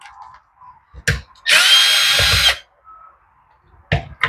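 A power screwdriver with a T25 Torx bit whirs in one steady burst of about a second on a Poulan chainsaw, close up, with a few light clicks and taps before and after.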